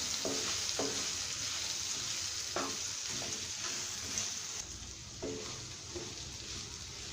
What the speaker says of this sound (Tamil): இப்போ எல்லாத்தையும் நல்லா கலந்து விட்டுக்கலாம்